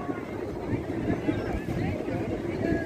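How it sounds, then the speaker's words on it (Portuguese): Strong wind buffeting the microphone at a crowded beach at Itanhaém, a continuous low rumbling gust that persists throughout, with faint voices in the background. "Um vento bem forte."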